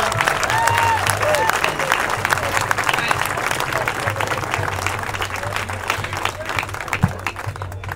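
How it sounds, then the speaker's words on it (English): A crowd at an Occupy Santa Rosa rally applauds steadily with dense, continuous clapping and scattered cheers, while a voice speaks over it. "let's give Ben Boyce a round of applause"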